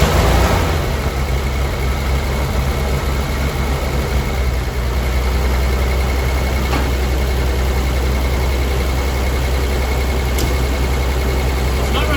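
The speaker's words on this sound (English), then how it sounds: "we're gonna give her a try" A Willys truck engine with a compression problem starts and settles into a steady, loud, low rumbling run, with a continuous deep drone holding evenly close by throughout.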